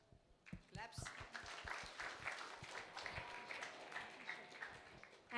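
A meetup audience applauds the second-place icebreaker winner at a JavaScript community event, a dense patter of many hands clapping steadily for several seconds with chatter mixed underneath.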